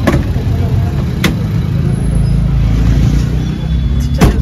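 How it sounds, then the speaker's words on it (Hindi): Saturday traffic jam on a road in Shillong, with car and truck engines idling and rumbling up close, a steady low drone broken by brief horn-like or passing vehicle bursts. "इतना ट्रैफिक जाम है दोस्तों, क्योंकि आज सैटरडे है दोस्तों"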